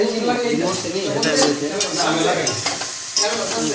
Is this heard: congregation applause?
no